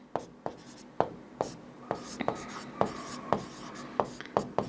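Pen strokes while writing out a Class 10 maths solution on real numbers: a close, quiet run of short scratchy strokes and taps at an uneven rhythm, with no talking.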